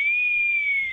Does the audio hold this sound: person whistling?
yes